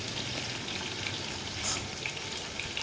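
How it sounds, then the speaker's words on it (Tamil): Sliced onions sizzle and fry in a pan for chicken biryani, a steady close crackling hiss with no talk. "வெங்காயம் பொன்னிறமாக வர வரையும் வதக்கணும்"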